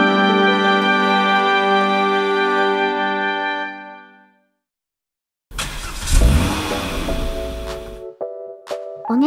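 Car driving in the Simutrans video game: after a sustained steady tone and a short silence, a game engine sound rises sharply as if starting and revving, then gives way to brief electronic beeps.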